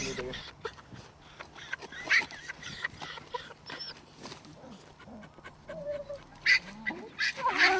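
A dog barks during ratting, giving several sharp, excited barks scattered among rustling and people talking nearby, with the loudest yelps near the end.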